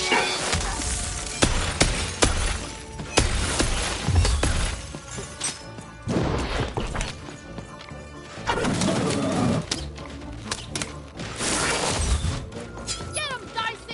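Pigeon-like cooing from a bird in the video game Lost in Random rises through busy game audio, mixed with crashes and shattering effects along with speech over roughly fourteen seconds.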